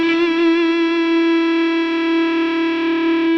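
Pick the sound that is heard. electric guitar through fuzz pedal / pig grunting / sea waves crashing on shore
electric guitar through fuzz pedal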